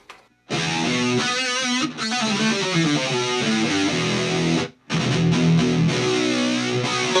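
An Ibanez PT 5 electric guitar through a multi-effects processor with EQ, chorus, flanger, delay and reverb, swirling chorus and flanger sweeps, plays loud sustained chords with two brief gaps.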